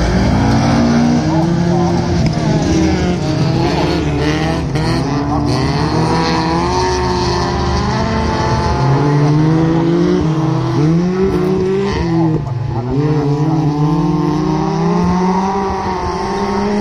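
Race cars start and race in an A-final at Heinola, their engines roaring loudly and continuously with rising and falling revs as several cars accelerate and shift, with a commentator talking over them.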